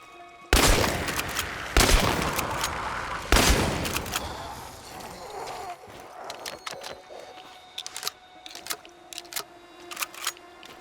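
Three loud, close shotgun blasts from Chernobylite, each with a long decaying rumble, followed by quieter clicks, rattles and scattered small impacts.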